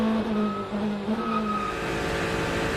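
Corvette Z06 GT3.R race cars at the Rolex 24 at Daytona, with a steady, droning engine note sustained at a constant loud level and no talk.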